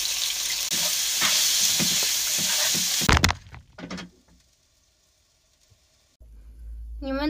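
Frog and meat hit a hot pot in a camper van and fry with a loud hissing sizzle. A clatter follows, then near silence, and the sizzling returns toward the end.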